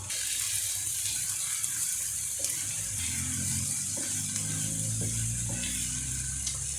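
Steady frying sizzle of zucchini in a pan, a continuous bright crackle with occasional soft clinks and stirring, no voices.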